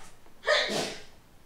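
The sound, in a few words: sneeze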